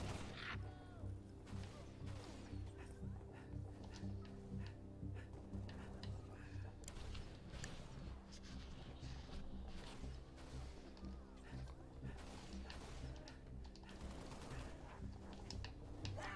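Rapid gunfire from Halo Reach on the Xbox 360, a dense run of sharp, close shots and crashing impacts that keeps going with no gap for the whole stretch.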